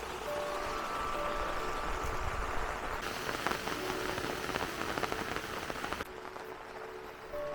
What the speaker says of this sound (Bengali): বৃষ্টির দিনের অবস্থা